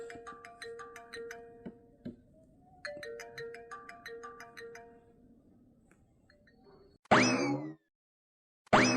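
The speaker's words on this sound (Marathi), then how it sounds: "एक काम कर फोन लाव छायाले" A cartoon phone ringtone plays a repeating electronic melody, faint and rhythmic, in two bursts, followed by a couple of sharp louder knocks near the end.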